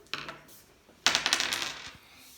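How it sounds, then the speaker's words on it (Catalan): Two dice rolled onto a table during a board game: a sharp clatter, a pause, then a louder burst of rattling bounces that settles and fades, close by with no talking. "Jo he tirat els daus i m'ha sortit 6 i 1."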